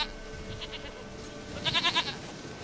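A goat in The Witcher 3: Wild Hunt gives one wavering, nasal bleat near the end, heard clearly over a soft bed of game ambience and faint earlier calls.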